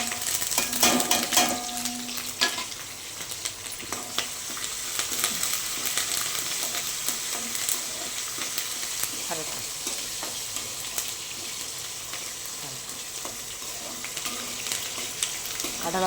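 Mustard seeds, chana dal, urad dal, chilli powder, green chillies and curry leaves crackle and sizzle in hot oil for lemon rice: a steady, dense frying hiss with some brighter pops and clatter near the start.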